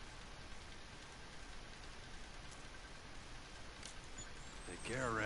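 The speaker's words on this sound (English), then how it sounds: "Rain's letting up." Steady rain falls in the Horizon Forbidden West video game, a soft, even hiss of drops with a louder burst of sound at the very end.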